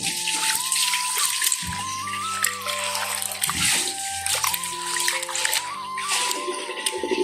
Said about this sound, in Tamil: வடிவா பிணைஞ்சு கழுவி எடுக்கணும்.